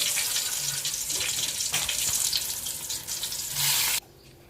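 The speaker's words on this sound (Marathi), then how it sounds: "आपले वडे चांगले फ्राय होऊन झालेले आहेत" Batata vada frying in hot oil: a steady bright sizzle and bubbling hiss runs for about four seconds, close and fairly loud, then cuts off abruptly to near quiet.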